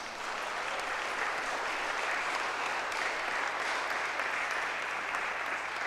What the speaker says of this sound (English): So we just get a round of applause for them as well